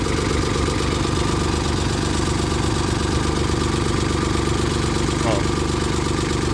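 A Kubota B92 tractor engine idles steadily close by, a continuous low rumble with a dense, even pulse throughout, while someone speaks briefly over it.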